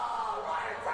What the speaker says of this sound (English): Crowd don't like that.